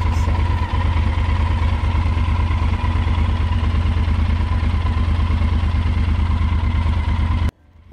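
A 2017 Yamaha Super Tenere 1200 XTZ, a 1199 cc parallel twin with a 270-degree crank, idles close by with a steady, throbbing low rumble and mechanical clatter for about seven seconds before it cuts off sharply.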